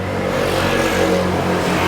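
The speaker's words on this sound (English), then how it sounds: "sorry for the road noise" Road traffic in Bangkok rumbles and whooshes as a continuous, fairly loud wash of engines and tyres nearby, with no talking over it.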